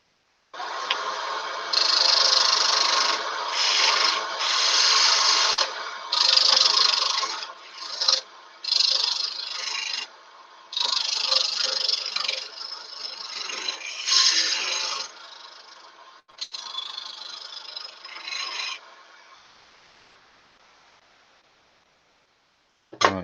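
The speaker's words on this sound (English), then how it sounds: "start using the skew now. The gouge, sorry. Just to try and thin down the arm." Woodturning gouge on a lathe thins the arm of a Minnie Mouse figure in wood, giving repeated loud scraping, cutting bursts with brief pauses that trail off into near silence at the end.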